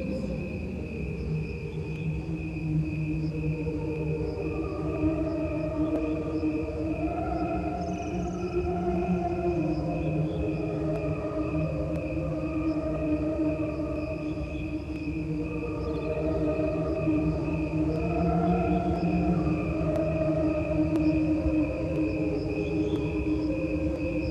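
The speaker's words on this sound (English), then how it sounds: "There is no orchestra, no other sounds except the crickets." Steady, continuous chirping of many crickets, a dense shimmering trill that carries on without pause against a calm night background.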